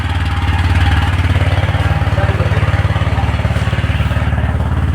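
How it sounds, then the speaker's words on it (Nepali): A motorcycle engine, just started, idles with a steady fast low putter, loud and close, running continuously without voices. "अहिले चाहिँ बाइक स्टार्ट भइसकेको छ।"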